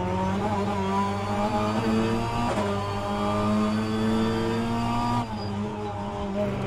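A BTCC Hyundai touring car in the rFactor 2 racing sim, engine droning loudly and steadily at high revs with rising and falling pitch through gear changes and corners, heard alone without talk.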